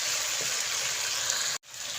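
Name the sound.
cooking oil being poured into the pan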